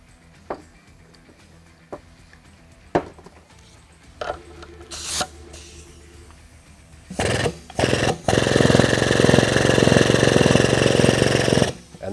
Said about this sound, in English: You're gonna hook air back up and you're just gonna run the pump a handful of times.